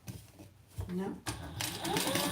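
A home sewing machine stitching card slots while running low on bobbin thread, its mechanical whir and rapid clatter growing louder and steadier toward the end, with someone speaking over the start.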